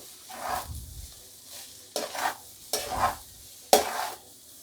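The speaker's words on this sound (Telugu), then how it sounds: "బాగా కలుపుకుందాము, మసాలా అంతా పట్టేట్టు." Semi-brown rice with masala and coriander, mixed for ivy gourd (dondakaya) rice, is stirred in a pan in four distinct scraping strokes, close and moderately loud, with soft sizzling between them and no talking.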